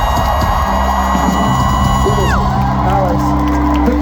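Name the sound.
concert crowd cheering and applauding at Red Rocks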